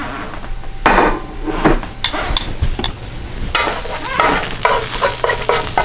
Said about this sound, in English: Them mushrooms out of there. Still sizzling.